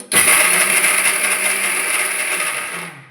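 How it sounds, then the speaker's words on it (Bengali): A kitchen mixer grinder whirring loudly as it grinds ingredients for homemade protein powder, starting abruptly and running steadily for a few seconds before winding down. "মিক্সি চালিয়ে মানে বারবার থেমে থেমে চালাবেন"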